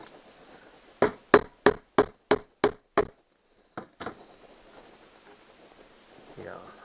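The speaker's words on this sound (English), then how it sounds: "try to hammer it like that." Plastic rivets being hammered into a kayak: seven sharp, evenly spaced knocks in quick succession, then a pause and two more taps, followed by quiet handling noise.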